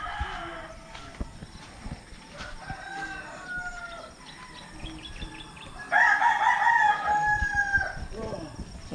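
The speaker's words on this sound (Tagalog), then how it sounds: "Rinig nyo ang ingay ng manok." A rooster crows loudly nearby, a long rising call, with faint chirping birds and scattered background noises around it.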